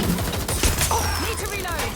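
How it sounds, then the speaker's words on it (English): Gunfire in Watch Dogs: Legion, a fusillade of loud, closely spaced shots filling the scene, with a voice briefly heard amid the shooting. "They're shooting!"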